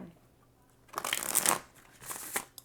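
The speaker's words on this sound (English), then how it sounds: "we're going to have one more shuffle" Tarot cards being shuffled close by in a couple of quick riffling bursts, after a near-silent start.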